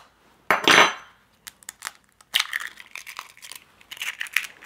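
Egg being mixed into a sugar and cacao batter in a bowl, with a loud scraping burst followed by a run of quick, uneven clinks and scrapes of the utensil against the bowl, close and with no talking.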